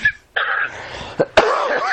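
A person coughing on a podcast, a few short harsh coughs with a throat-clearing sound, heard close and alone.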